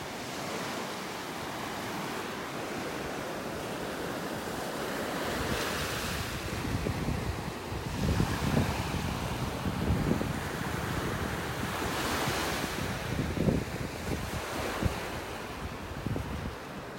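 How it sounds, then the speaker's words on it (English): Small, gentle ocean waves wash continuously onto a beach in North Naples, Florida, on a morning walk, with soft rolling swells and steady wind noise on the microphone, fairly close and without any talk. "Loving those little waves."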